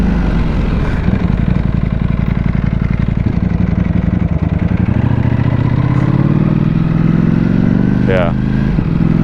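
Ducati Panigale V4S motorcycle engine running on a ride, a loud close rumbling drone that rises steadily in pitch as it accelerates, with a quick rev climb near the end.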